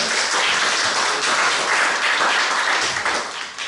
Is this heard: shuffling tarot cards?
no